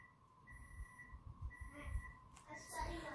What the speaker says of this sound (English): That's my son's video game timer.